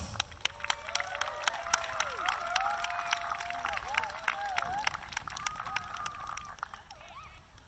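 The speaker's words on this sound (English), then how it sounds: "Can I get a round of applause, Rhode Island, for Mr. Keith Stokes?" An audience in Rhode Island applauds a speaker introduced at a history event, steady clapping with some cheering and whoops, while a voice talks over it at the start.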